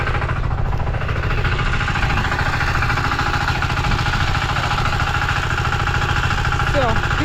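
The engine of a walk-behind tractor runs in second gear with a steady, loud, throbbing chug that continues without a break from start to end, while someone talks over it.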